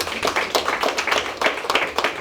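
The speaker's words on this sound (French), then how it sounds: "Je vous prie de les applaudir." A small audience claps at a Burkina Faso diaspora fair event, a short burst of close, uneven handclaps with a brisk rhythm, no talk over it.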